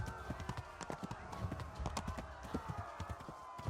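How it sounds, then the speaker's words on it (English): A horse ridden at speed in the medieval game Kingdom Come: Deliverance pounds out rapid, continuous clip-clopping hoofbeats, fairly quiet overall with some low talk mixed in. "riding a horse"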